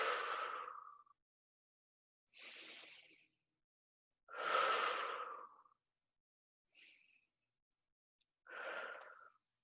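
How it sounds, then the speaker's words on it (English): Slow deep breathing during a self-massage session with heat applied to the body, five separate long breaths with steady inhale and exhale rhythm, close and fairly quiet, no talking. "And do some deep breathing."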